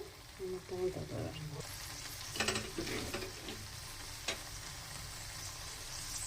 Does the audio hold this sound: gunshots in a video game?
no